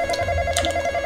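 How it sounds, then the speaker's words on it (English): A phone rings loudly and close by with a steady electronic tone, a brief burst with no talk over it. "Oh, my phone ringing."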